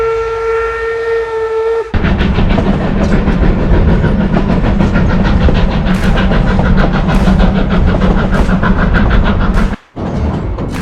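A Durango-to-Silverton narrow gauge train in Colorado's San Juan National Forest rumbles steadily along the rails with a loud, continuous clatter, opening with a sustained whistle blast.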